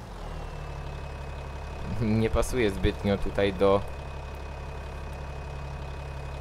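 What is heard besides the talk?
tractor engine idling in a farming video game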